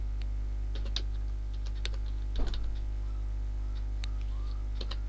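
Sparse keystrokes on a computer keyboard while HTML code is typed, scattered single clicks and one brief louder clatter over a strong steady electrical hum, with no voices.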